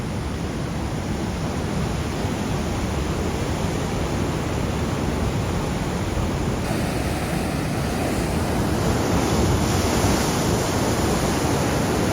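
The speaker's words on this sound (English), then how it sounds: "I could hear the large waves from about a mile away." Heavy high surf breaks along a rocky coastline under a high surf warning, a constant loud roar of crashing ocean waves with no talk.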